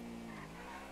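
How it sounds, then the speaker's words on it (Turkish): Tires skid in GTA 5 as a car slides on the road, a continuous loud screech with engine drone for the full second, no voices. "Dur, araba çok kayıyor."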